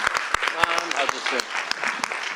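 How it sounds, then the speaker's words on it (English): Clapping from a small audience at a regular legislative session honours two state champion teams, with distinct individual hand claps over a steady patter while people talk over it. "big round of applause for both teams"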